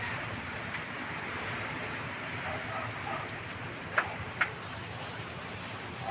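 Rain pours steadily in a broad hiss, with a couple of louder drips or taps standing out near the end.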